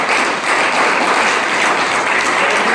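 Loud, dense applause from an audience at a business event for a company's 25th anniversary, a continuous wash of clapping filling the whole stretch with no voices.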